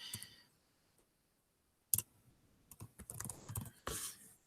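Quiet bursts of keystrokes on a computer keyboard, a sharp click then a quick irregular run of typing after a short pause, close and soft.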